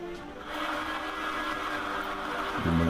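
A blender whirs steadily at close range mixing mayonnaise as oil is added, its motor pitch shifting as the mixture thickens, with a louder surge near the end.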